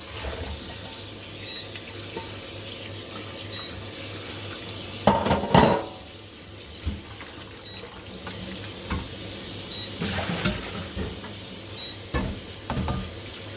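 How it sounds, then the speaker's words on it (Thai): Cold water runs steadily from a tap in a home kitchen, a close, continuous rush with a few brief clatters of dishes or utensils partway through. "นี่เปิดน้ำเย็น"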